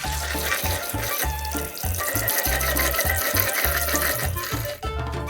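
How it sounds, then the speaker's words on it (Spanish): Running water rinsing dried corn kernels for red pozole, a steady close splash from the tap with rhythmic low thumps of kernels being stirred and churned in the pot, no talking. "lo vamos a estar enjuagando con agua las veces que sea necesario hasta que el agua nos salga completamente transparente"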